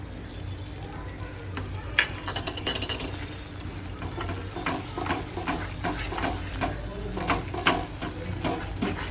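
Jaggery being stirred into roasted flour in a pan for sukhdi, with a continuous scraping and sizzling texture, irregular clanks of the spoon against the pan, and close, moderately loud sound.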